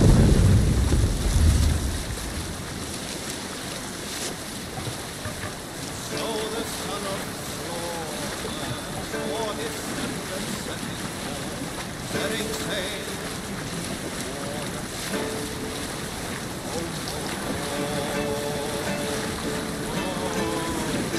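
A Viking longship sails at sea in Assassin's Creed Valhalla, wind and waves washing steadily around the hull, with a loud burst at the start and voices speaking over the ocean ambience.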